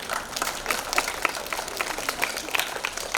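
A school audience applauds the new director at a back-to-school gathering, a dense, even round of clapping that carries on without a break for the whole stretch.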